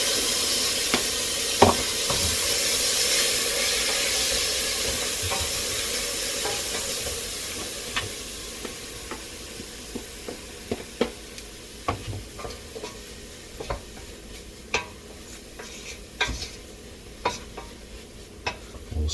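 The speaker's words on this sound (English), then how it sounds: "Sizzle, sizzle." Vegetables and meat sizzle and hiss steadily in a heavy pan on a push-button burner, with a frequent scrape and clink of stirring as the hiss slowly fades.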